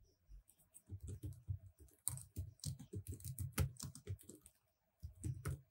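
A computer keyboard is typed on steadily at close range, a fast, even patter of soft keystrokes in runs with a brief pause near the end, quiet and with no talk.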